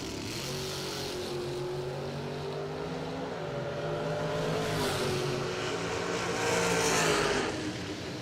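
Drag racing launch at a door slammer race meet as a Chevy II and a Chevrolet S10 pickup roar down the strip, steady loud engine drone with pitch sweeps and a louder surge near the end.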